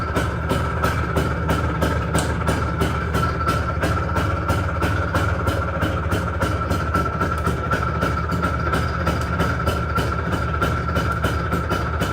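An IZh Planeta 5 motorcycle engine runs at a steady idle after starting, a continuous loud low chugging with even rapid pulses throughout, close to the microphone and with no voices.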